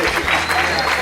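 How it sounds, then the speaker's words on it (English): Applause from a tired crowd at a Fireball Run rally gathering, a dense wash of clapping filling the full second, with voices talking over it. "Nice round of applause for Robert Cruz."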